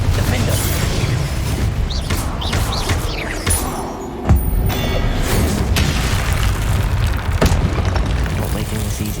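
Incendio and Confringo spell explosions in the Hogwarts Legacy video game: a dense run of deep booms, bursts and thuds, with one sharp blast near the middle, loud and continuous amid battle clatter.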